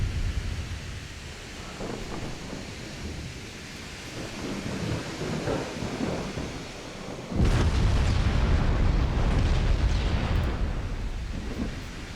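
A battleship exploding and sinking in a naval warfare game, a long low rumbling roar that surges much louder partway through and keeps churning, like a heavy blast rolling into continuous roar.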